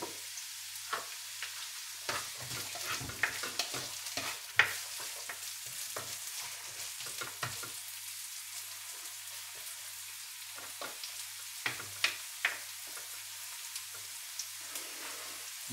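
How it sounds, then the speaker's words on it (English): Onion and capsicum fry in a pan for Turkish menemen, crackling in a bright, constant sizzle broken by frequent stirring scrapes. A faint low hum runs underneath and no one speaks. "So we'll chuck the onion and capsicum in there."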